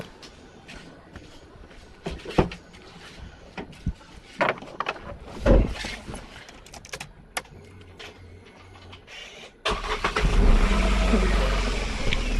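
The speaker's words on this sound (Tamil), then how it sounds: "இன்ஜின் ஸ்டார்ட் பண்ணியாச்சு." Renault Kwid engine cranks and catches near the end, jumping to a steady idle after quieter clicks and handling noises inside the car.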